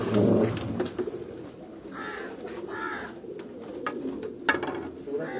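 Kamgar pigeons coo softly in a loose, repeated pattern on a rooftop, with steady background noise and a few short knocks throughout.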